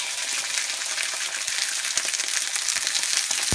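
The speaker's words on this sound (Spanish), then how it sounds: "Ahora vamos a poner las pechugas de pollo para sellarlas. Esto es a fuego mediano alto." Chicken breasts sear over medium-high heat in a hot frying pan, giving a loud, steady sizzle and crackle that runs throughout with scattered small pops.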